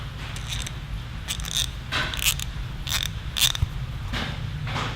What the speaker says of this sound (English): Harbor Freight ratchet.